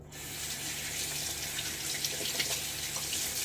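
Water runs steadily from a tap into a sink, a constant close splashing flow with no talking.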